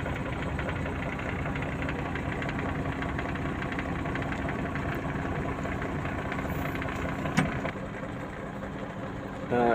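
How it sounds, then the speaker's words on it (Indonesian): A Mercedes Axor 2528 dump truck's diesel engine idles at close range in a steady, even rumble with a faint knocking rhythm, and a brief clunk near the end. "Engine sudah hidup ya kawan-kawan."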